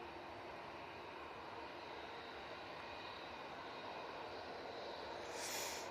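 Vueling Airbus A321 from Barcelona landing at Manchester Airport in strong gusty wind, a steady broad roar of jet engines and wind noise held at even loudness throughout, swelling slightly near the end.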